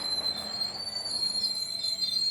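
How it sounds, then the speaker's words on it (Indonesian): A train halting at a station just after leaving a tunnel, with steady rail rumble beneath a sustained high metallic wheel squeal, close and continuous with no voices. "Hanya jeda beberapa menit dari terowongan, kereta berhenti di sebuah stasiun."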